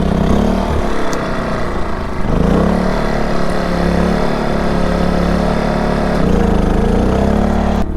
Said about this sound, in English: So I'm gonna get this generator started.